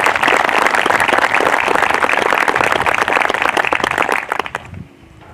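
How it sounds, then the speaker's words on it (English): Sustained applause from a commencement ceremony audience, many hands clapping loudly and evenly before thinning out and fading to quiet near the end. "How about a round of applause for all these champions for children?"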